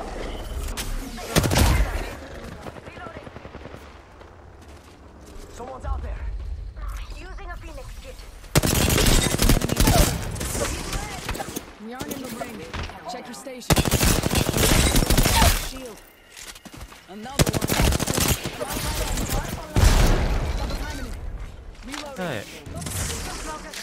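Bursts of automatic gunfire and explosions from an Apex Legends match, loud and dense in several volleys, with quieter gaps and some talk over the action.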